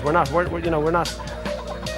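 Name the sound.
chickens clucking on an organic farm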